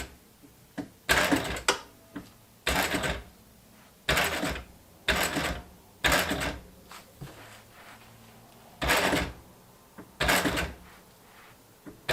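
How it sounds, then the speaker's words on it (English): A sewing machine running a lock stitch on a DIY Ranger sun visor, in short separate bursts of whirring stitching, about eight runs with quiet gaps between them. "let's get the needle in, put the presser foot down, and see what we can do for a lock stitch"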